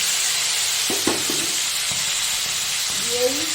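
A steady sizzle of hot oil in a pan as ground spice paste goes in for a Bengali katla fish curry with naga kochu and potatoes, close and continuous with a few soft clinks of a utensil.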